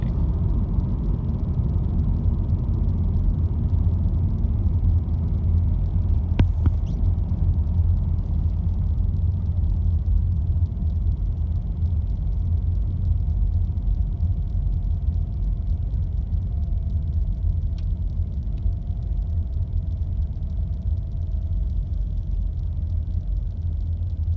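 Low, steady road rumble inside a 2018 Subaru Impreza slowing in traffic, a continuous drone with no talk and only a brief click partway through.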